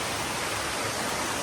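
A waterfall on Tai Mo Shan near Ng Tung Chai roars in a dense, steady hiss, loud and constant with no other sounds.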